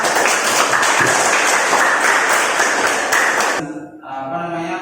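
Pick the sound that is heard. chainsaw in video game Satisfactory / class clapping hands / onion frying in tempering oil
class clapping hands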